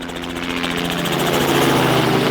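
A helicopter rotor chops loudly and close in a rapid steady beat during an autorotation, the whirring drone swelling slightly over a couple of seconds with no voices.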